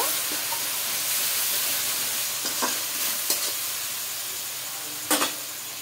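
Spicy yogurt-marinated chicken leg pieces being stirred in a hot pan with salt, a constant loud sizzle and hiss with a few scraping knocks of the spoon against the pan.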